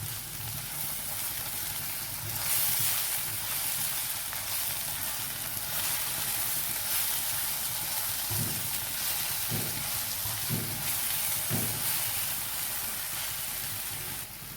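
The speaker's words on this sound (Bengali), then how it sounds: "এর মধ্যে এবার সামান্য হিং দিয়ে দিচ্ছি, অতি সামান্য। একটু নাড়াচাড়া করে নিই।" Asafoetida frying in hot oil in a pan, a continuous loud hiss of sizzling with a few soft thumps of stirring near the end, close by and without speech.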